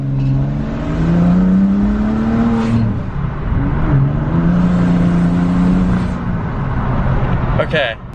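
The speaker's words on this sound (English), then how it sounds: "We're gonna get a little bit of gas in sport mode." A BMW 535i fitted with catless downpipes, revved in sport mode, swells in two long, deep, throaty rises and falls, loud and close, ending in a brief rattle, with a voice heard in the background.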